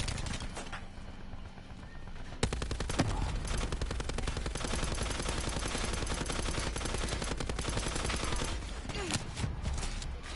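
Rapid gunfire from the Call of Duty Black Ops video game, with bursts of automatic fire and shots that run almost without a break, loud and dense throughout, with faint talk underneath.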